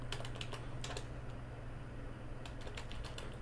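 Quick bursts of keystrokes on a computer keyboard while logging in to a Raspberry Pi 3 during a DietPi setup, crisp close clicks over a steady low electrical hum.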